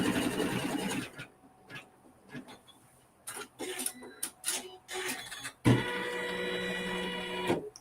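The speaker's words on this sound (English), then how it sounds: "I still have that same neutral color thread in the needle, and I'm going to sew another seam." A sewing machine runs a fabric seam with neutral thread, a steady mechanical stitching whir at the start and again at the end, broken in the middle by short clicks and handling knocks; fairly close and moderately loud.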